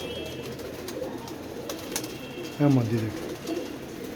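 A caught pigeon, one of three taken in bad weather, gives a single clear coo midway, near and fairly loud, while someone speaks briefly over a faint background hum.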